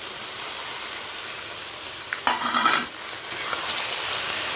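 Jute leaves tossed into a hot pan for pelka shaak, giving a sudden loud sizzle and crackle that flares briefly and then settles back into a steady low frying hiss.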